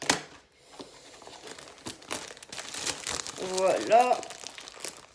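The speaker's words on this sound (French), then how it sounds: "je suis en train de le déballer" Crinkly wrapping being torn and crumpled as a package is unwrapped, close and fairly loud in rustling bursts, with someone talking in French over it.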